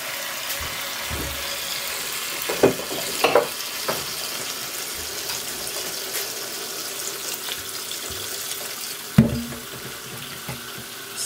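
Cold water runs from a tap into a bowl of cherries being prepared for canning, a continuous close splashing hiss with a few brief knocks and clatters of the bowl, no voices.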